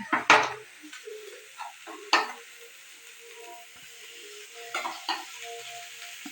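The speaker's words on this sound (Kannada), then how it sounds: "ಎಣ್ಣೆ ಹಾಕಿ ಹುರಿತಾನೆ ನೋಡ್ರಿ" Curry leaves and onion frying in oil in a pan on a gas stove, with short bursts of sizzling and spatula scraping separated by quieter gaps and faint clinks of cookware.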